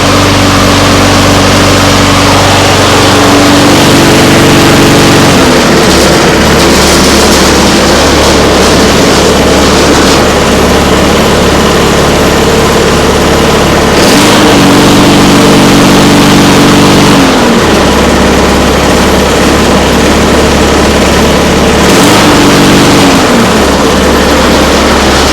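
A smoky Partner lawn mower engine runs loud and close, its small-engine drone cycling between higher revving stretches and lower settled running several times, with no talking.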